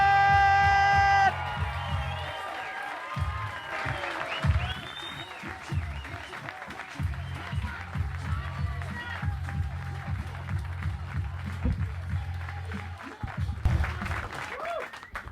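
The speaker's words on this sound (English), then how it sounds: "Stamp those feet, clap those hands" Comedy club audience clapping and stamping their feet to welcome comedian Gary Hyland onto the stage, steady applause with thuds and whoops, while a loud music sting with a heavy beat plays underneath throughout.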